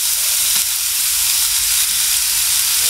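Grated onion and cabbage frying in a hot pan for veg momos filling, giving a loud, dense, continuous sizzle with a faint stir near the start, close up and without talk.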